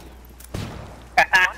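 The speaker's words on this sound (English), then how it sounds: "Is the guy shooting from the back?" A video game gunshot cracks once, sharp and fairly close, against a quiet background. A voice speaks briefly just after it.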